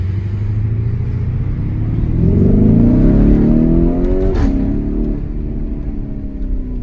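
A Lamborghini Urus in Corsa mode accelerates hard, its engine note swelling to a loud, close roar over a few seconds before easing off, with no voices.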